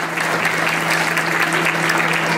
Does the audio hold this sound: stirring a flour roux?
no